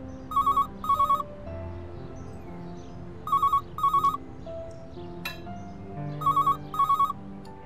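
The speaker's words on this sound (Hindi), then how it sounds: "किसका फोन आ गया, मैं देख कर आती हूँ" A telephone rings indoors in a home kitchen scene, three pairs of bright electronic trills spaced evenly apart, each double ring short and clear over a quiet background.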